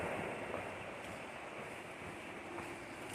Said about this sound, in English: That's the Nantahala River you hear in the background over there.